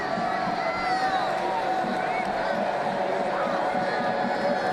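At a college football game in a stadium, a broad, steady crowd roar fills the background while a commentator's voice talks over it.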